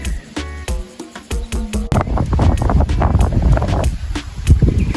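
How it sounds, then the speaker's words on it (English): Loud wind rumbles and buffets the microphone, building into a steady roar after some scattered clicks and knocks at the start. "Make sure I talk loud because it is very windy."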